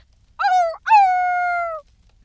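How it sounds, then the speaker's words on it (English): A wolfos beast from Majora's Mask lets out two loud shrieking yelps, a short cry then a longer drawn-out wail that slides downward, standing alone against near silence. "The wolfos shrieked"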